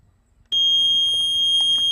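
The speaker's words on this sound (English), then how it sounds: "And this thing's just going to keep beeping at us" An electronic buzzer on a wireless 802.15.4 receiver, tested for range, starts abruptly after a brief quiet moment and holds a loud, steady, high-pitched tone close to the listener.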